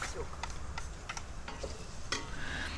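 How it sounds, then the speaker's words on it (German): Onions, garlic and sausage fry in hot oil for a Hungarian lecsó, a steady close sizzle broken by a few brief stirring clatters, with no talk over it. "Zuerst kommen Zwiebeln und Knoblauch in das heiße Öl und dann auch die Wurst."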